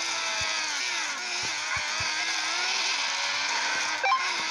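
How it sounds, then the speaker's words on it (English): A helicopter in the mobile game Smashy Road Wanted whirs with a continuous mechanical buzz, steady and close, with faint game thumps and effects scattered through it. "Helicopter on us."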